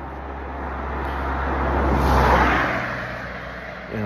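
Cars passing on a road nearby, a swelling whoosh that builds to a peak midway and fades again over a low steady traffic rumble, with no talking.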